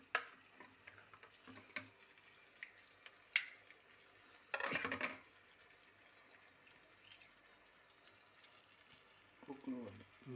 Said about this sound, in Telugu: ఇప్పుడు ఎగ్స్ మొత్తం కలిపేస్తున్నాను మొత్తం మిక్స్ చేసేస్తున్నాను